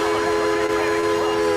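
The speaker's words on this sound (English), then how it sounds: "They hear the whistle blow because it's going to be blowing." A steam whistle sound effect blasts loud and steady in the studio of a sports talk show, a sustained, hissy, multi-toned blare with no break.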